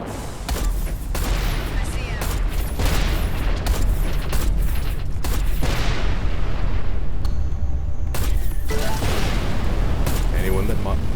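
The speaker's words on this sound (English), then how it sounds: "I do recommend this flak cannon. It solves problems very easily." Flak cannon firing in the Everspace 2 space combat video game, a dense run of repeated booming bursts and blasts in rapid succession with someone talking throughout.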